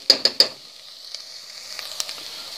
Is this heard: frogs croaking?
no